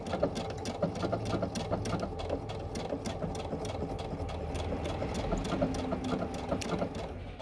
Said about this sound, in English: could you please do a tie-off stitch for me and cut the threads and raise the foot